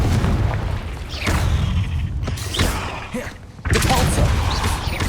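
Confringo fire spell explosions in Hogwarts Legacy in a cave: repeated loud booms and crackling blasts over heavy low rumble, with a brief drop before a renewed loud burst, and some voice mixed in.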